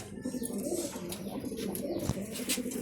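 Several racing pigeons coo softly and continuously in a loft in low, rolling murmurs, with faint chirps and small rustles over them.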